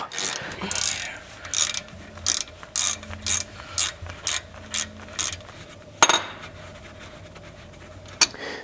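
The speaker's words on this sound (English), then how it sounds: "Once we get those 14 millimeter bolts out, we can actually remove the top end of the caliper." A hand ratchet backs out 14 mm brake caliper bolts on a 2012 Nissan Rogue, giving a series of about ten short, crisp clicking bursts in a steady rhythm, close and fairly loud, with no talking.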